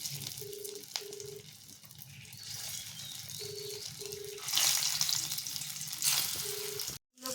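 Soybean koftas frying in hot oil, giving a steady sizzle that swells louder midway, with short repeated beeps and a brief dropout near the end.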